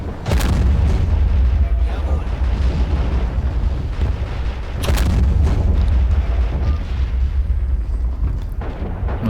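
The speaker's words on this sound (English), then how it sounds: "It's some sort of artillery cannon." Artillery cannon fire in the World War II strategy game Men of War: Stalingrad, with loud, booming blasts at the start and again near the middle over a continuous rumble of battle noise.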